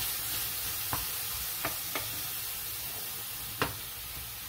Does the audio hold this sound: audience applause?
no